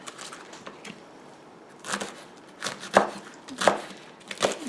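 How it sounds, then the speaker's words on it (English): Knife chopping rolled-up collard greens on a board, a few scattered cuts then a run of louder, sharp close chops at uneven intervals, no one speaking. "give them a chop"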